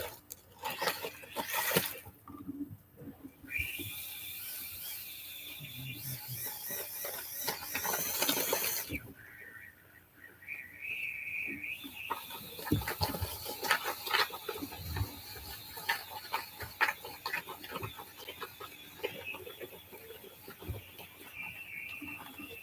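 A mortar spraying machine runs while building an 8 inch block wall, giving a steady mechanical rattle and clatter with sharp hissing bursts, loud and close throughout.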